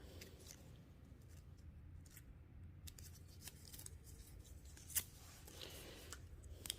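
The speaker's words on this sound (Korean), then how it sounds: "붉은색과 푸른색을 겹쳐서 가위로 중간 정도를 잘라줍니다" Scissors snip through stacked red and blue litmus paper strips, cut across the middle, giving faint, close crisp cuts with one sharper snip over a quiet room background.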